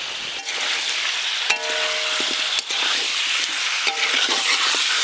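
Chicken pieces frying lightly in oil in a pan, a steady close sizzle with a few sharp metallic scrapes and clinks as the pieces are stirred, no talking.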